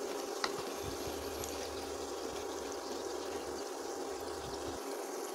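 Eggplant pakoras frying in hot oil, a soft continuous bubbling hiss, quiet and steady throughout with no talk.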